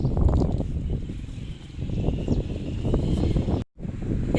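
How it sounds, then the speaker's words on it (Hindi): Strong, gusty wind of a duststorm in a village buffeting the microphone with a steady low roar, broken by a brief dropout near the end. "इतनी ज़्यादा तेज़ हवा चलने लगी है ना, तेज़ हवा तो नहीं, आंधी कह सकते हैं आप इसे"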